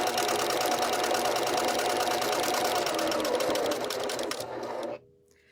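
A sewing machine stitches fabric for appliqué gift bags, running in a loud, close, rapid mechanical rattle that holds steady and then slows and stops near the end, leaving near silence.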